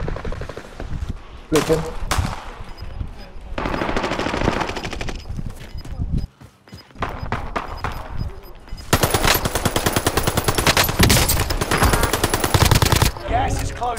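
Automatic gunfire erupts in a Call of Duty: Modern Warfare battle royale match, with rapid bursts that turn into long, loud sustained volleys while players talk over the shooting.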